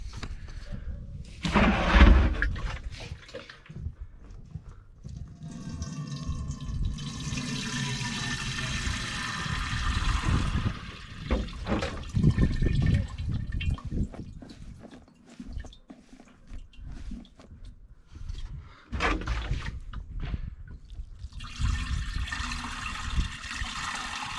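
Fast water from a tap rinses freshly picked fireweed flowers, a rushing splash that swells and fades with clattery handling noise, and brief bursts of stronger gushing partway through.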